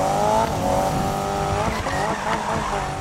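Toyota cars drifting in the Need For Speed 2015 racing game, with a loud engine whine and a continuous tire squeal that hold steady for about three seconds and no talking.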